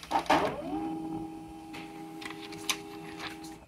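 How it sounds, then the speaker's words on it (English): A Samsung M2020-series laser printer starts a page with a brief mechanical clatter, then settles into a steady hum with a faint whine, and a few soft clicks follow. "So it starts printing"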